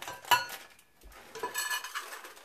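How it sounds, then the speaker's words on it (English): Andy's Creme de Mint baking chips poured into a mixing bowl for mint cookies, a brief clinking rattle against the bowl followed by softer scattered patters and light shuffling. "I'm going to now add our Andy's Cream de Mint baking chips"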